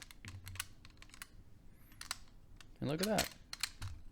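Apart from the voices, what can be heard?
vintage cassette deck piano keys clicking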